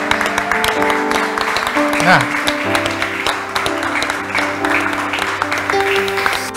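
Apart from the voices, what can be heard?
wedding guests applauding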